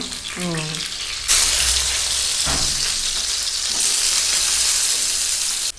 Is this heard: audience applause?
no